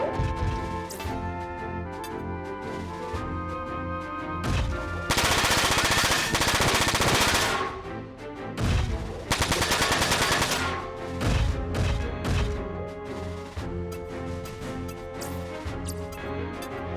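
Rapid machine gun fire rattles against a turret in Front Mission 4, loud mechanical bursts over game music, with two especially dense sustained volleys in the middle.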